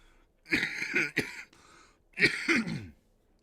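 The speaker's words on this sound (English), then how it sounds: "And I will officially clear my throat." Two rough bursts of throat clearing, close and fairly loud, separated by a short pause.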